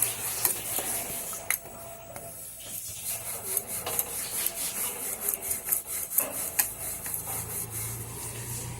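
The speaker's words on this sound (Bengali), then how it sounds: "এইভাবে আমি একটা বড় করে পরোটা বেলবো" Paratha dough being rolled out with a rolling pin on a slab, heard as close, repeated wooden rubbing and rolling strokes in an uneven rhythm with small knocks, fairly quiet, no voices.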